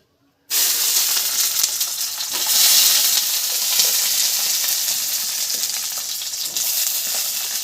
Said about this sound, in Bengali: তো দিয়ে দিচ্ছি বেগুন